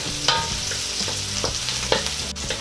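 Onions sauté in a pan with a steady sizzle, broken by a few sharp stirring scrapes and clinks of a utensil, close and fairly loud with no talking.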